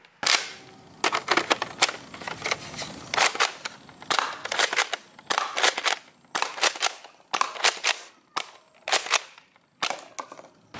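A toy multi-shot gun fires repeated bursts of rapid, crackling cap-like pops, clustered in short volleys separated by brief pauses, close and fairly loud.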